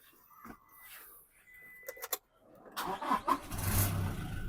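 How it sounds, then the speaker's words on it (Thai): A few clicks and a short crank, then a Toyota Revo pickup truck engine catches and settles into a steady rumble close by. "เดี๋ยวสตาร์ทเครื่องให้ดูกันนะครับ"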